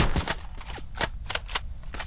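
Gunfire in a shooter video game, a run of sharp separate shots at uneven spacing, about six or seven cracks in two seconds, loud and close with no talk over them.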